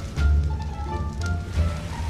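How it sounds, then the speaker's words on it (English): Rain falls in the video game Ark Survival Evolved as a steady, fairly loud wash of hiss and patter, with low rumbling swells underneath. "now it is raining."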